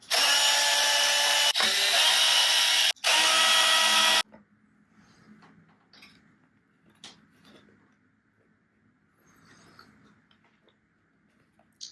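A power drill whines loudly in three bursts while drilling into hard plastic, stopping briefly between them, followed by quiet clicks and handling noises.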